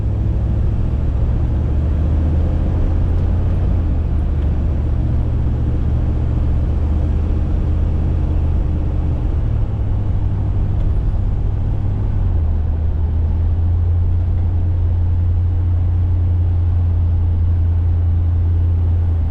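A 1979 GMC G25 Vandura van drives around the block, heard from inside as a loud, steady engine drone and road rumble with gear changes shifting the pitch partway through.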